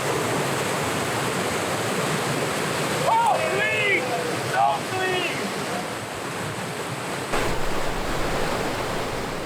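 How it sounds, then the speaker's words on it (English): A big waterfall on a remote, rugged river north of Lake Superior gives a steady, thundering broadband roar from start to finish, with faint voice-like tones drifting through midway. "there's a big waterfall. Mist coming up, thunder"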